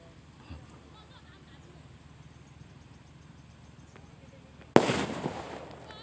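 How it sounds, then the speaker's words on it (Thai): A sudden loud firecracker bang, set off by children, bursts out after a quiet stretch of rushing waterfall noise in a forest, followed by crackling and rattling as it fades. "เด็กน้อยก็พากันมาจุดประทัด"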